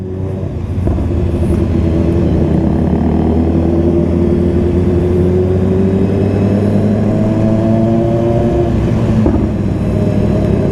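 Modified motorcycle engine idling and revving close by, a loud, steady low drone with rising and falling pitch that holds throughout, with no talking over it.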